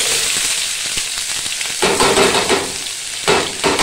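Chopped onions and green chillies sizzle in a hot pan, a steady close hiss of frying with sharper crackles and stirring scrapes rising in the second half.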